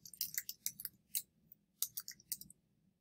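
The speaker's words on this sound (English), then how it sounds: "hit enter or click the search button" Computer mouse clicks on a database search button, a few quick sharp clicks in small bursts, close and quiet against near silence.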